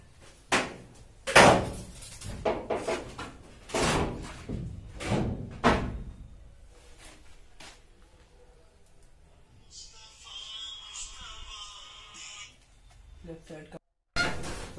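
Hyundai Grand i10 car door being pulled from a pile of parts and handled, with a series of sharp metallic thumps and knocks, some scraping, and someone talking in between.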